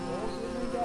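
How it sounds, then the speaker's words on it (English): Bees buzz in a steady, continuous drone that stays close and fairly even in loudness, with no talk over it for the whole short stretch. "Oh, bees."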